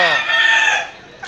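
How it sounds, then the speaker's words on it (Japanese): A rooster crows loudly and close by in a Cebu neighborhood, one long drawn-out call with a rising then sustained harmonic tone that fades off near the end. "ここにも、ここにも鳥が"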